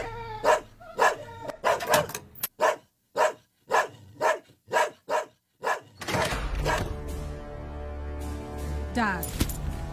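A dog barks in a run of about ten loud, evenly spaced barks close by, followed by a denser stretch of mixed noise with voices talking.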